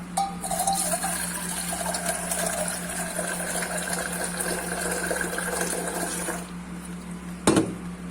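Water runs steadily into a container to soak potatoes in a kitchen, a constant rushing fill for about six seconds that then cuts off, followed by a single clunk.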